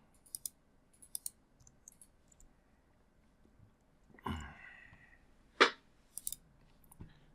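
Sparse computer keyboard clicks sound close and dry during 3D CAD work in HiCAD, scattered single taps and short pairs separated by quiet gaps, with a couple of louder knocks near the end amid a minor keyboard glitch.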